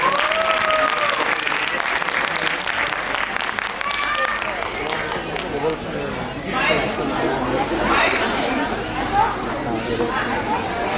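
An audience at a stage programme breaks into sustained clapping that fades, with crowd chatter mixed in and a voice on a loudspeaker talking over it.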